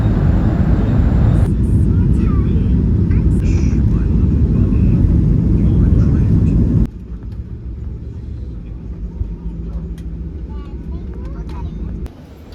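Airliner cabin noise during a night flight over the outskirts of Delhi: a loud, steady engine roar that drops abruptly to a quieter hum midway, with no clear speech.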